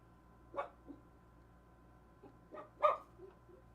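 A dog barking several times, a few short, faint yips and barks spaced apart against a quiet background with a low electrical hum.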